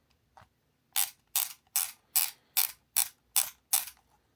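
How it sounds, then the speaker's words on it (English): A FLASHBACK V2 digital disposable camera's film wheel is wound with a thumb, making eight evenly spaced, crisp ratcheting clicks after one faint tick, close-up and clear against near silence. "You do have to wind the quote unquote film."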